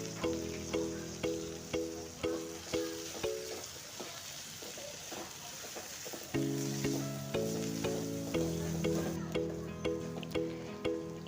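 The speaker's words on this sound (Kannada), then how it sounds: "ಅದನ್ನು ಎಣ್ಣೆಯಲ್ಲಿ ಚೆನ್ನಾಗಿ ಫ್ರೈ ಮಾಡ್ಕೋಬೇಕು." Chopped tomatoes fry in hot oil with a steady sizzle and repeated stirring scrapes, under a rhythmic background music loop.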